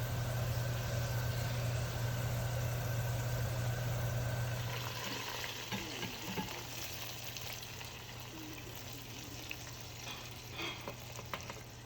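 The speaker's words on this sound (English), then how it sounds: "In a pan, heat the oil and add onion until the onion starts to change color." Onion fries in hot oil in a pan for mutton paya, a soft continuous sizzle at first under a low steady hum, which drops away midway, leaving fainter crackle and occasional small clinks.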